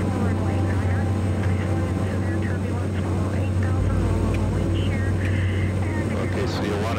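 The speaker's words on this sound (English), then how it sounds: "successfully execute a landing and a takeoff without stopping, known as a touch and go" A small airplane's engine drones steadily and loudly throughout a touch and go landing in Alaska, with voices talking over it.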